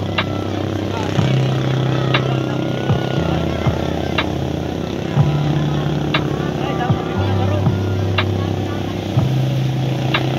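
Racing boat engines drone steadily throughout a boat racing competition, with the pitch rising and falling as boats pass, and people talking in the background.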